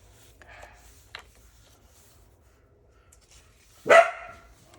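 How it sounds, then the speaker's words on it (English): A single sharp bark from a dog indoors, fairly close and loud, following a few faint rustles and soft sounds. "And that would be my other dog,"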